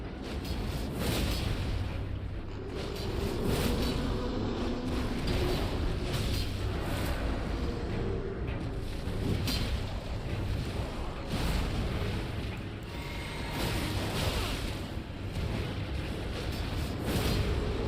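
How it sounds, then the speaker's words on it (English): Jar cannon explosions in the Elden Ring video game, played on PS5, rumble as a dense, continuous barrage of booms and blasts with no pauses. "The jar cannon, that's what it was."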